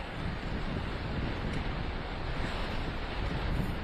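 Ocean waves make a constant broad roar at a seaside resort, heavily buffeted by wind rumbling across the microphone, with no talk.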